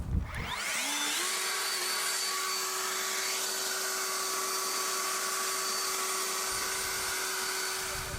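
Electric leaf blower spinning up from a brief starting sputter into a steady, high-pitched whining roar, held close and constant while blowing snow off a Ford Raptor pickup.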